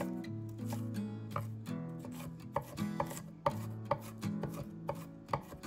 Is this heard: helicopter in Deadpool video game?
no